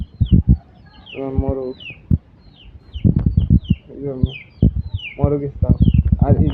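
Chickens clucking close by in a backyard poultry setup with cages and trays, bursts of short calls repeating among rustling and handling noise.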